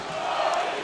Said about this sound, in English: He just woke this crowd up